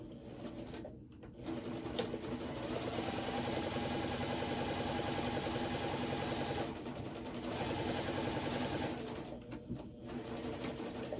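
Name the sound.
sewing machine sewing the bottom of a bag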